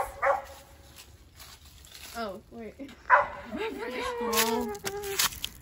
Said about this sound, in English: where's that dog from